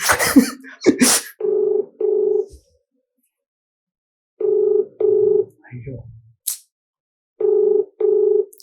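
Telephone ringback tone heard while calling a girl: paired electronic beeps repeating in three clear bursts, separated by pauses, with brief talk and movement noises in between.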